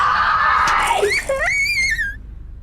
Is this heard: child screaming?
yes